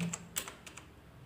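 Quiet, close typing on a computer keyboard, a handful of light, irregular keystrokes clustered near the start, then trailing off into near silence.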